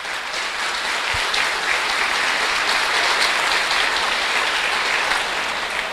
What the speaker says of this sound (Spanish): Un aplauso pues para el hermano.